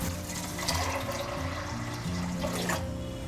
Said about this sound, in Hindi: 4 कप पानी डालेंगे।